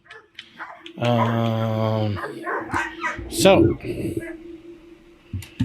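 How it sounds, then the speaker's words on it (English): In a Starfield game, a dog lets out a run of rapid barks and yips, loud and close, with someone talking over and between them. "I don't know why the dog's barking like a crazy person"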